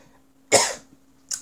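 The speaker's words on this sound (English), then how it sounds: "me coughing." A single harsh cough bursts out close to the microphone, followed a moment later by a short, faint second cough or throat sound, with quiet room hum around them.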